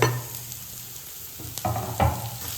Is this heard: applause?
no